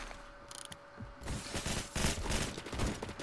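Gunfire in the online shooter Phantom Forces: a dense, rapid burst of overlapping shots with mechanical clatter, moderately loud and continuous after a brief quieter start.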